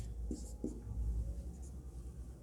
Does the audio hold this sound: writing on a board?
yes